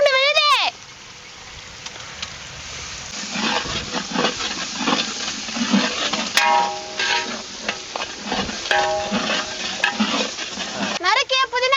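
Ground ginger garlic paste hits hot oil and masala for a traditional chicken biryani, sizzling and frying with spoon stirring scrapes and someone talking over it.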